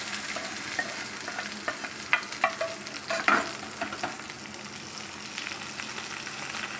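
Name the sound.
pickle added to sizzling tempering in pan, stirred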